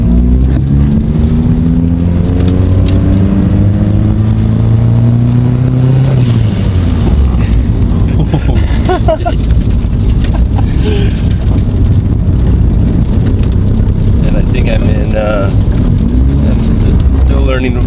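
Loud car engine revving as it is driven, pitch climbing through the gears with a shift midway, then a rough, heavy drone and rattles continuing to the end, alone and close.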